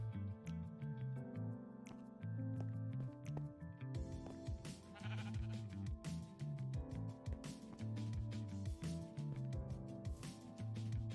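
Sheep bleating in the Minecraft video game, repeated wavering calls that rise above a quiet, gently plucked background tune, heard close with no talk.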